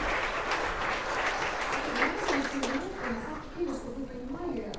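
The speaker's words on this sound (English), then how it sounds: "let's give a round of applause." Applause from the audience in a State Duma parliament session, a dense steady patter of many hands clapping filling the room for the whole stretch, with voices faintly mixed in.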